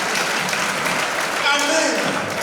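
A church congregation claps and cheers in a broad wash of applause, and voices rise over it near the end.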